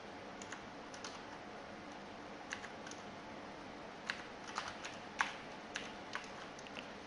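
A computer keyboard clatters with irregular bursts of key presses as Java code is typed, individual clicks spaced out with short pauses and a few louder strokes, fairly close and without talk.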